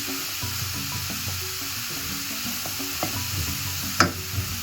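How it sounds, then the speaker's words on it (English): Soya chunks being stirred with coconut sugar in a hot pan, a steady close sizzle with continuous scraping and clacking of the spoon against the pan, and one sharper knock near the end; no voices. "Add 1 tablespoon of coconut sugar. And stir it in really well."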